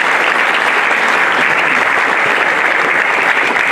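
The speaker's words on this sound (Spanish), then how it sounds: "un aplauso para ella" A crowd applauds Clara Anel Santana Álvarez as she stands to take on a representative role at a Nueva Alianza gathering. The clapping is loud and sustained, with an even, unbroken texture throughout.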